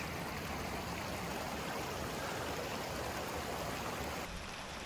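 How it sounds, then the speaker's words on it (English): A small river or creek in the countryside flowing steadily, a continuous broadband rush of water close by with no voices. "Feeding right into this little river or creek."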